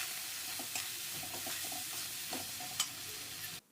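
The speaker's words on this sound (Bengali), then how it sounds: "সব মশলাগুলিকে ভালোভাবে কষিয়ে নেব" Turmeric, coriander and cumin powder fry in hot oil with a soft, continuous sizzle, broken by a few scraping stirs of a spoon up close. The sound cuts off abruptly near the end.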